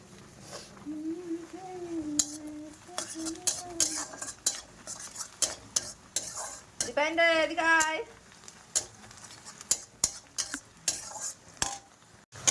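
Masala spice mix frying in a pan while being stirred: repeated scraping and clinking of a utensil over a light sizzle, with a voice talking briefly at points.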